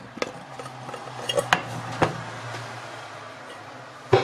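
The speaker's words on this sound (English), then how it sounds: "I'm going to already now change to a bigger pan." Pans being swapped on a home stovetop while making cheese sauce, a few sharp metallic clanks and knocks over a steady low kitchen hum, close by with no talking.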